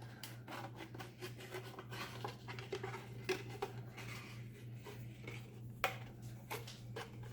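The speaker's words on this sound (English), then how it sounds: "make a cut with your scissors right in the middle of where you want the hole" Scissors snipping and rasping through a thin plastic plant pot, a steady run of close, quiet cuts and scratchy scrapes with a few sharper clicks, no talking.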